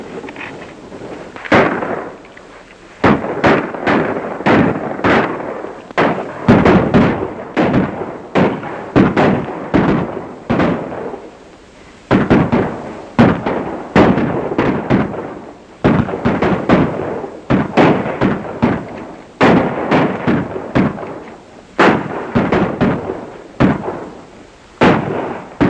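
Gunfire in a 1935 Western shootout, rapid bursts of rifle and pistol shots cracking again and again at close to medium range, sharp reports with echoing decay and no talk.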